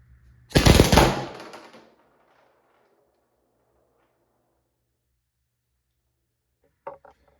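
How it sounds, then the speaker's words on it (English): A Valken M17 paintball marker set to 800 psi, its sear jammed, fires one loud, rapid full-auto burst lasting just over a second. The burst trails off, followed by a long silence and then a brief sharp click near the end. "what you just saw there was auto fire"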